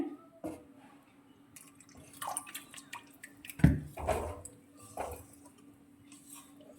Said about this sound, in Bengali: আমি অল্প পরিমাণে জল দিচ্ছি